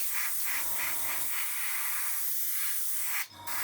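An airbrush sprays Lifecolor acrylic paint thinned for flow, a soft continuous close hiss with faint pulsing, broken by a short sharper burst of air near the end.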